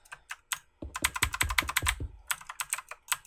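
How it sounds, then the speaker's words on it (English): Rapid typing on a mechanical keyboard with fairly light-resistance switches, clattering keystrokes in quick irregular bursts, close and clear, with no talking. "people who hate the sound of mechanical keyboards"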